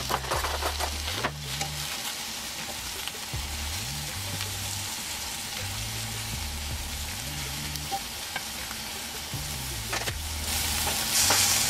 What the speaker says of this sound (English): we just gonna grill these sausages real quick